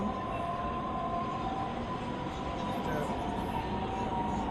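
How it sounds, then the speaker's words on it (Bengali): Steady rumble of the Changping express train on the Beijing rail line heard from inside a moving carriage, a continuous even drone with faint background voices. "我坐的昌平快车。"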